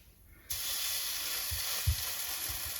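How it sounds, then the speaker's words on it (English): Zucchini fritters drop into warm olive oil, and the pan suddenly bursts into a bright, steady close sizzle with a few soft thumps under it. "We'll drop our fritters in."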